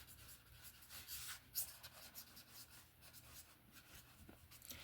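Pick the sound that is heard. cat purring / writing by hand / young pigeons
writing by hand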